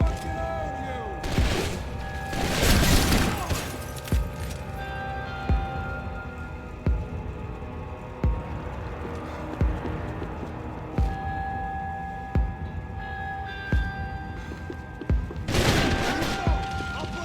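Repeated gunfire in the Max Payne 3 video game, with bursts of shots, heavy booms near the start and end, and regular single shots in between. Shouting voices come and go over the shooting.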